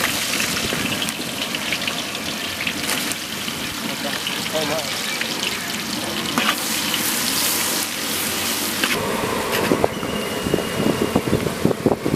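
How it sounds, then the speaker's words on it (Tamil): Green onions frying in a pan during large-batch cooking of Kashmiri pulao, giving a loud, continuous sizzle and crackle under ongoing background noise, with occasional sharper spitting sounds. "நல்லா பொரிஞ்சு வரவும் பச்சை வெங்காயம்."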